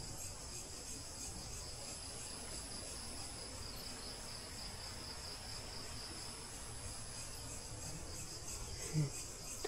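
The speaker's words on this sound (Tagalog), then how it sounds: "Maririnig mo mga kuliglig." Crickets chirp at an abandoned poultry farm in a dense, continuous high-pitched trill, steady and fairly faint, with a soft rustle at the very end.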